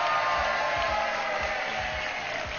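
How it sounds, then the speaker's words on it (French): Studio guests at a game-show taping clap together in a sustained round of applause, a steady crowd wash with some voices mixed in. "on se fait vraiment des applaudissements d'émission de jeu"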